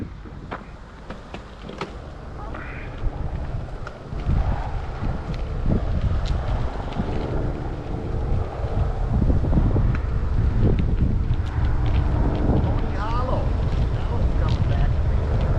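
Wind buffets the microphone on a breezy day during a bike ride on the Pony Hollow Trail near Elkader, Iowa, a rumbling, gusty low roar that grows louder partway through, with people talking over it.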